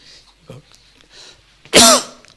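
A single sharp, loud cough bursts out near the end of a Bible lecture after quiet moments with faint breathy sounds.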